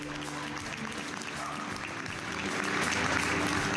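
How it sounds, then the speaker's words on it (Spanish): Sustained applause from many people cheering health workers, a continuous crackle of clapping that swells slightly louder toward the end. "lo que ha generado la ovación de millones"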